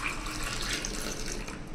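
Strained water is poured into a bowl for soup in a home kitchen, a brief, soft, steady trickling splash heard close and alone.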